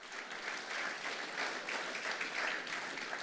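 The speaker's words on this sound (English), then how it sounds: "can I get a big round of applause for our fantastic startups?" An audience applauds graduating startups at a tech accelerator summit, steady, dense clapping that holds an even level throughout.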